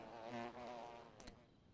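Bees from the video game Zelda: Tears of the Kingdom give off a faint, wavering drone for about two seconds, broken near the end by a short, sharp click.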